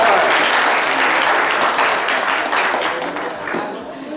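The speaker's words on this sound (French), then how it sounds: "On va l'applaudir jusqu'à ce qu'elle arrive." An audience at a live show featuring the group Magic System claps continuously, a loud, dense crowd applause that fades slightly toward the end, with voices mixed in beneath.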